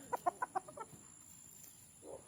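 A Boston Roundhead dark-side gamefowl rooster gives a quick run of four or five sharp clucks close by, then falls quiet before a soft low call at the end.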